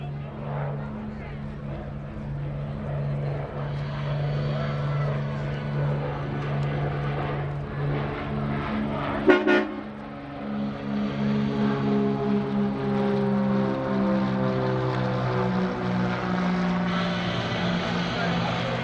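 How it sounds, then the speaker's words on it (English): Two Beech T-34 Mentor propeller trainers, one blue and white and one yellow and white, drone past at an airshow, a steady propeller hum that swells and shifts in pitch over an announcer's voice. "here comes Stash and Sliver. Stash in the blue and white, and Sliver in the yellow and white T-34s"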